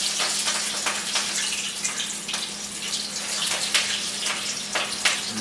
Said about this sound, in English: I will drop them in my frying pan, which is preheated with some olive oil on medium high.